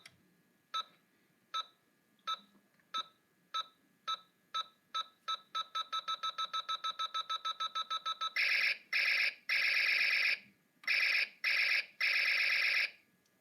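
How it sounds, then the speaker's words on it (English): Stars and Stripes Buzz Lightyear toy laser: evenly spaced electronic beeps that speed up into a rapid ticking run, then several long buzzing laser zaps, all close and clear. "You have like a timer sound with a shooting sound"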